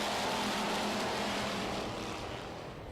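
Pure stock race cars roar off together at the start of a dirt-track heat race, a dense, loud engine drone that fades slightly as they pull away.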